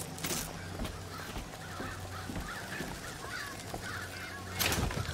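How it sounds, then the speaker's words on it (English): Several harsh crow caws ring out in the video game Bioshock Infinite, coming in separate bursts over a low steady background hum, with a louder call near the end. "Oh, birds."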